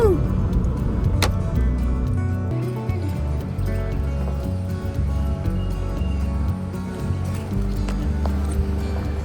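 An overland vehicle pulls in at a roadside cafe on an Ozark trip, its engine rumbling loud and close with a steady low drone and a few brief knocks and rattles along the way.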